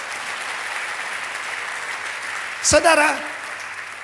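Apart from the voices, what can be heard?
congregation applause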